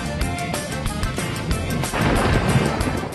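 Thunder rumbling through a thunderstorm with rain and wind, a steady broad roar that swells louder and rougher in the second half, with no voices.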